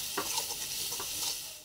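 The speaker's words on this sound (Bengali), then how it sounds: "এটা দিয়ে ভালো করে নেড়ে দিচ্ছি।" A spoon or spatula stirs a spiced curry with chili and salt in a frying pan, a few quiet scraping strokes over a soft, steady sizzle.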